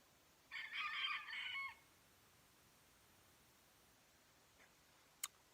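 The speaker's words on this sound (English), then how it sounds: "this chicken over here needs to die" A chicken outdoors nearby lets out one loud, strained call, a crow-like squawk lasting just over a second, then falls silent, leaving quiet background with a couple of faint clicks.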